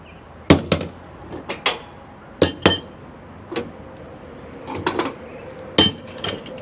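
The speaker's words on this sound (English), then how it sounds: "Put our tools right here in the side box." Metal tools dropped and set into a truck's side storage box, giving a series of sharp clanks, clinks and knocks at irregular intervals, some ringing briefly, close by with no talking.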